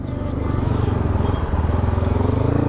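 A dirt bike engine runs close by on a rough track, with a steady, pulsing low rumble that holds throughout at a fairly loud level.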